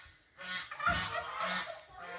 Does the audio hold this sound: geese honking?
yes